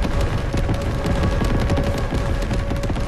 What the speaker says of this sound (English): This guy just threw down an airstrike